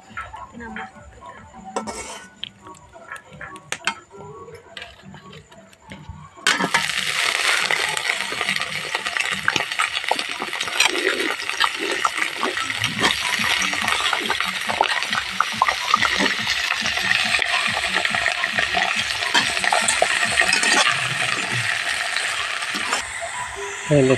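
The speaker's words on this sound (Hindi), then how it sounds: "मेरा तेल गर्म हो गया है, अब उसमें गीता जी कटहल डालेंगे।" After a few quiet clinks, jackfruit and potato drop into hot oil and a loud, continuous sizzling frying sound takes over, crackling steadily to the end.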